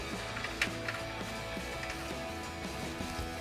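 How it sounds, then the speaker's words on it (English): A socket ratchet tightens a 10mm bolt on a brake bracket of a 2005-2014 Mustang during a coil-over install, quick close rhythmic clicking in short bursts over a low mechanical hum. "We'll get our 10mm bolt back in place."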